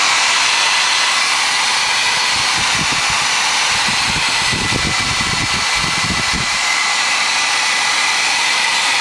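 A 2012 Frigidaire 6000 BTU window air conditioner, model FRA065AT7, runs with a steady, loud broadband whoosh of fan and airflow throughout, with a brief low rumbling stretch in the middle.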